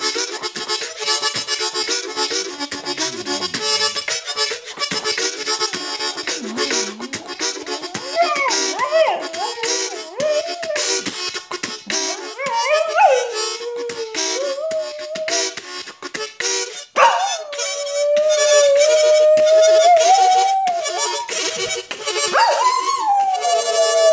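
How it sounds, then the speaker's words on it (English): Reedy harmonica chords play steadily and fairly loud while a Cocker Spaniel howls and whines along in rising, sliding tones. "You want to hear some harmonica?"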